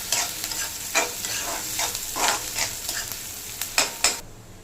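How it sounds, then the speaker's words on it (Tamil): Onions and curry leaves frying for chicken gravy, a steady sizzle punctuated by repeated sharp stirring scrapes at an uneven rhythm, close and moderately loud. "ஒரு 2 வெங்காயம், கருவேப்பிலை, நல்லா பொண்ணு வரலாம் வறுத்துக்கணும்."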